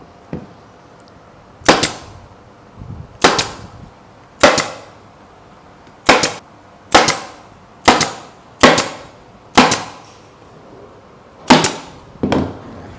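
A staple gun shoots staples through fabric into a DIY seat cushion, nine sharp, close, percussive snaps spaced about a second or so apart, with no talking over them.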